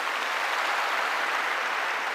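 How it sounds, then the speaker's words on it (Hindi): Audience applause at a success day event in Delhi, a steady dense wash of clapping hands throughout, fairly loud and without voices. "एक बार प्लीज जोरदार इनके लिए ताली हो जाए"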